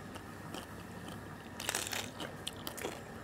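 Quiet, crisp bites and crunches into Thai crispy roast pork crackling (moo krob), several irregular crackly snaps close up with no speech.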